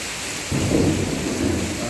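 A low rumble of thunder rolls in suddenly during heavy rain in Bengaluru and lingers beneath the steady hiss of falling rain.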